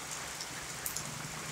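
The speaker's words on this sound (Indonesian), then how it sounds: "tu hujannya, hujannya turun sebenarnya" Evening rain falling steadily in Kampung Batang Mitus, Tutong, with moderate wind, a continuous even hiss of drops on surfaces close by and no voices.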